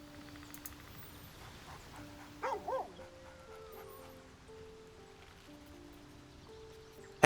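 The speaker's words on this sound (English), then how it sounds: "And there was a dog." A dog in Baldur's Gate 3 gives a short pair of yips and whimpers, with soft game music tones and ambience around it, and no voices.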